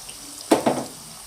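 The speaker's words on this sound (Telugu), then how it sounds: "ఇప్పుడు ఇందులోనే ఆనియన్స్ వేసుకుందామండి." Whole uncut onions and garlic tipped into hot oil with bitter gourd for a kakarakaya curry, two quick splashy bursts close by that fade into a low sizzle.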